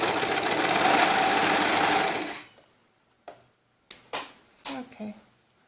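Sewing machine stitching a seam on a doll romper, a loud steady mechanical whir for about two seconds that stops abruptly, followed by a few short clicks and handling sounds.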